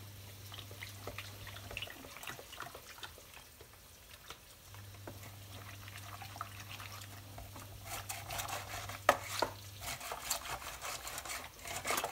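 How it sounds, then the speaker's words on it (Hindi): Wet, thick gram flour batter being stirred and sloshed with water in a bowl, with soft scraping and liquid slaps that grow busier toward the end. No one speaks. "अब इसको अच्छी तरह फिर मिक्स कर लेंगे"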